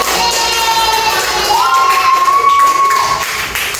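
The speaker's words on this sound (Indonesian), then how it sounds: "Tepuk tangan." A class of fifth-grade children in an Islamic education lesson responds as a group, their loud, shouting voices and cheering filling the room near and steady, with only faint hints of clapping.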